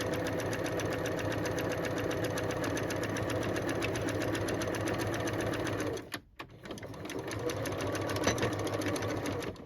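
A sewing machine runs steadily, stitching down a seam of an upcycled denim jacket, with a brief pause near the end before the motor starts up again close by.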